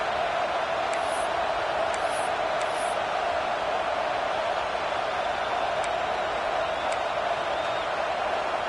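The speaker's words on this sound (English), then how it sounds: "the crowd really making some noise now, trying to help out this defense to get this stop near the goal line" Steady, continuous stadium crowd roar from an American football video game as the defense tries to make a goal-line stop, a dense wash of noise throughout with a few faint whistle-like tones above it.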